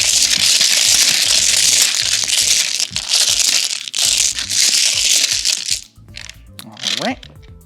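Mahjong tiles shuffled by hand across a table, a dense continuous clatter of clicking and crunching that runs for several seconds and thins out toward the end, with a voice speaking over it.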